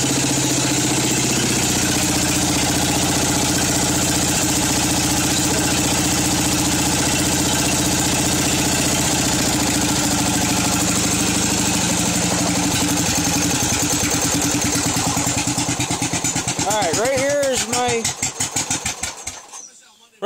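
A Craftsman small engine idles too low and skips, its steady mid-pitched putter running near and loud for most of the stretch, then stumbling with uneven beats and cutting out near the end.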